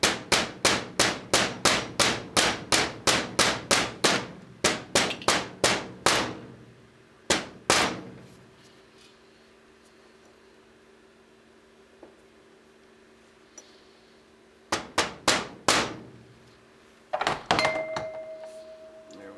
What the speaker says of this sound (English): I'll go to a brass hammer.